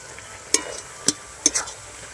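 Boiled jujube (kul) is stirred and fried in a pan for a sweet pickle: four short scraping strokes of a spoon, quiet and close, over a faint background hiss.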